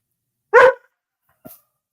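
A dog gives one sharp, loud bark followed about a second later by a fainter short yip, with silence around them.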